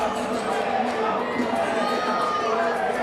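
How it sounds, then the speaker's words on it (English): A wrestling crowd at a small indoor show in Hialeah boos a wrestler's entrance, a steady dense roar of many voices sustained throughout at moderate distance. "He comes out to a chorus of boos."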